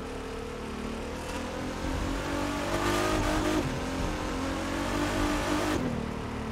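Car engine in the racing video game The Crew 2: a steady, fairly loud droning engine note with rising revs, heard alone without talk.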